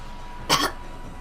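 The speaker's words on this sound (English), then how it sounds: "She coughed." A woman gives a single short cough, a brief, fairly soft burst that stands alone against quiet background noise.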